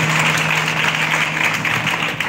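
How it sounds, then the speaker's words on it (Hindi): A church congregation clapping together at a prayer service, a dense continuous wash of hand claps close by, steady in loudness throughout. "ताली बजाइए मोहब्बत करने वाले।"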